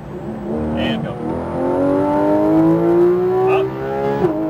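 A Porsche GT3 RS engine revs through a downshift, its rising harmonic whine swelling loud and close with a sharp blip near the end, while a driving instructor talks over it.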